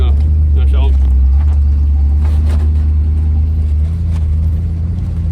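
Rough-running engine of a junk 1976 Chevrolet Nova, a loud, heavy low rumble with uneven throbbing and a brief rise in revs, heard from inside the car with a voice talking over it.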